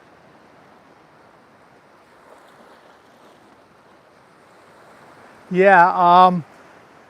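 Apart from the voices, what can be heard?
waves on a beach in Thailand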